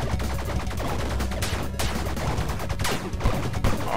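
Pistols firing in the video game Bleed, with a dense, rapid run of shots alongside loud game music and effects, with sharp bursts standing out around the middle and near the end.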